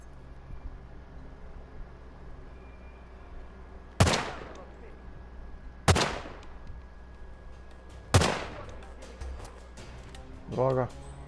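Three sharp gunshots from a sniper-style rifle in Hitman 2, spaced about two seconds apart, each a loud crack with a short echoing tail over quiet game ambience.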